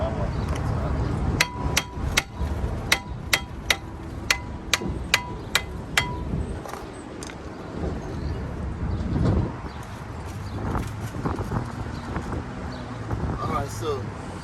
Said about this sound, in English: That's my hammer. That's how I do it.